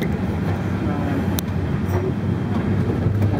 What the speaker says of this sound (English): You like the freight trains? You like the freight engines?